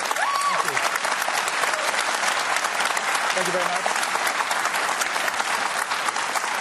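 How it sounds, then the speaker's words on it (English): A large audience at a Q&A session breaks into loud, dense, sustained applause that fills the room throughout, with a brief spoken thanks heard over the clapping. "Clap quickly because we're running out of time."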